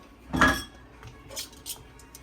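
Garlic butter being mixed in a dish for air fryer steak bites gives one loud clattering scrape of utensil against bowl, then a few fainter clinks and taps.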